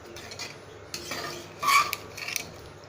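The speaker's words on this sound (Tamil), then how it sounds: "ஃப்ரெண்ட்ஸ் தாளித்து வச்சு இப்போ நல்லா கலந்து விட்டுக்கோங்க." A tempered chana dal and snake gourd kootu gets mixed in a pan, with soft scraping stirs and a louder clatter of the ladle against metal near the middle, all close and without voices.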